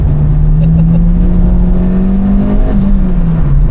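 Honda Civic Type R EP3 heard from inside the cabin, a loud steady engine drone with a brief rise and dip in pitch from a heel-and-toe downshift blip.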